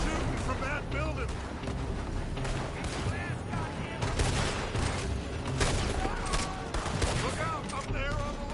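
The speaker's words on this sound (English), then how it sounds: "They're shooting from that building." Dense gunfire in a Red Dead Redemption II shootout, rapid overlapping rifle and pistol shots crackling continuously near and far, with voices talking over the battle.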